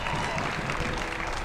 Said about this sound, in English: Matthew Mateus going to get a huge round of applause here.